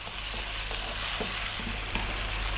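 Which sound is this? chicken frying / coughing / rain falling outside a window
chicken frying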